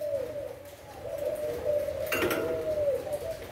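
Newly imported Thai spotted dove with red markings and a black collar, cooing in a steady, close, clear rolling call with a brief clatter partway through.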